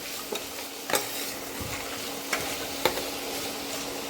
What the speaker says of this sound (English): Now let's add peas soaked for 3 hours and saute this also well.